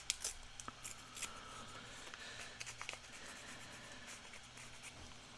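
Blueberry-dyed paper torn at the corner by hand, quiet crisp ripping and rustling in short uneven bursts close up.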